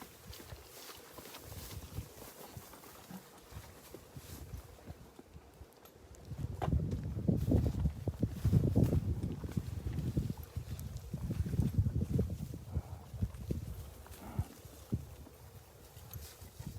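Horse hooves clip-clop at a walk during a horseback safari ride, a steady uneven plodding that grows louder and closer after the first few seconds, with faint outdoor background.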